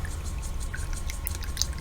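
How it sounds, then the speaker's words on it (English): A paintbrush swished in a water cup to rinse out paint, giving soft continuous sloshing and trickling close to the microphone at low level. "clean my brush really well, swish it in the water"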